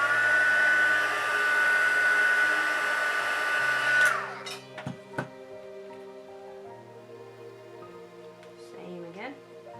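A heat tool blows hard to heat-set paint during a creasing tutorial. It makes a steady loud whoosh for about four seconds, then cuts out, leaving faint clicks and handling noises.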